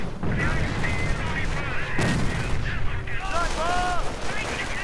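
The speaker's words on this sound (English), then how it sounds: "Incoming gunfire." Gunfire and artillery crack through a 1v1 strategy game battle involving riflemen, a German sniper and mortars. Sharp shots and booms land over continuous battlefield noise with whistling tones, and some talk runs under it.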